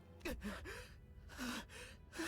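Sinclair, a character in Limbus Company, gasps for air in several sharp, breathy intakes with strained vocal edges, spaced across a couple of seconds and heard close and alone.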